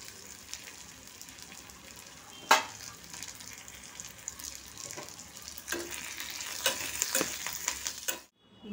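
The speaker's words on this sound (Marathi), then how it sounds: "इथे मी आता हे सर्व खोबरं आणि आलं लसूण ते सुद्धा छान असं हलकंसं फ्राय करून घ्यायचं आहे" Coconut, ginger and garlic fry lightly in a pan, a steady close sizzle with scattered stirring scrapes and a sharp clack near the middle, then cutting out just before the end.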